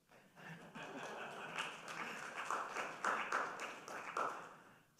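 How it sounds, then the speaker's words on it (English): Audience applause fills a lecture hall at Lakeside, Ohio: dense, sustained clapping from a crowd that swells and rises to a few louder peaks toward the end. "You can applaud."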